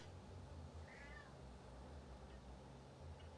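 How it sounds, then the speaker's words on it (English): A pet cat gives one brief, fairly faint meow over a steady low hum of room noise. "My cat talking to me."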